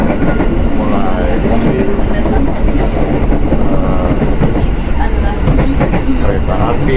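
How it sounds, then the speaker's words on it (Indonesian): A train runs along the railway with a steady, loud rumble and faint rhythmic wheel clatter that stays constant throughout, with no voices. "kereta api"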